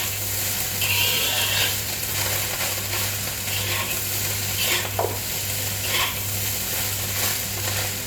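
Yangzhou fried rice is stir-fried on a home stove with a modest flame, giving a constant close sizzle broken by scraping and tossing strokes of the spatula, with a low steady hum underneath.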